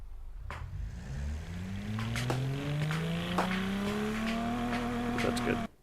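A 4.3 liter V6 with 191 horsepower, built in the Automation car game, revs up steadily, its engine tone climbing smoothly in pitch for several seconds before cutting off abruptly, with a voice talking over it.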